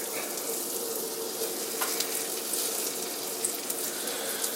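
Breaded chicken fries in a cast iron pan with a steady, soft sizzle and faint crackle throughout, close and unbroken, with no talking.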